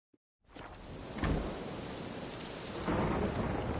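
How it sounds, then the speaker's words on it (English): A thunderstorm in the video game The Witcher 3 rolls in with a deep rumble of thunder over steady heavy rain, swelling louder twice after a brief silent start, with no speech. "A storm, damn it."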